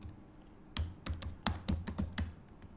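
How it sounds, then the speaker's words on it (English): Keys clatter on a computer keyboard as a full name is typed into an HTML form field, a quick irregular burst of close clicks after a moment of quiet room tone. "I could just come here and just type full name"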